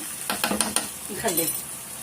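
Meat stirred through onion in a pot for a Moroccan mulukhiyah tagine, with a few close scraping strokes of a utensil and a soft sizzle underneath.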